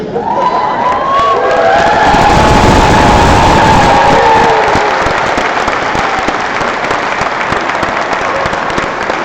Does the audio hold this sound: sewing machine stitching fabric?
no